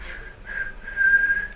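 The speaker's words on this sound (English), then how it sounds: "You guys hear whistling?" A thin, high steady whistle holds for a second or so after a couple of shorter tones, faint and somewhat distant like a guard's whistle.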